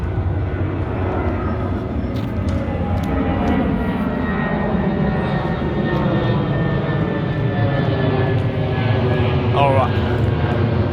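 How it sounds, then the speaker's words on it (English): A steady, loud roar of an airplane flying overhead fills the air continuously, with a voice faintly present underneath. "there is a lot of air traffic, as you can hear right now, and you can see the planes going up."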